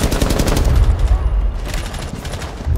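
Rapid bursts of gunfire from Rainbow Six Siege in a Skyscraper bomb-mode match, loud and dense over about three seconds, with volleys overlapping in a sustained fusillade.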